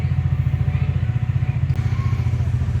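A motorcycle engine warms up at Sarangkot near Pokhara, Nepal, with a steady low, throbbing idle that pulses evenly and holds close and loud throughout.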